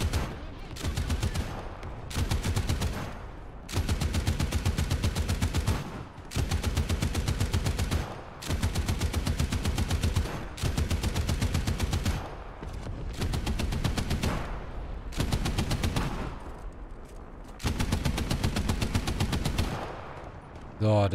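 Quad M45 flak machine guns on a CCKW 353 truck fire long, sustained bursts in War Thunder, heavy rapid rattling separated by brief pauses, loud and close throughout.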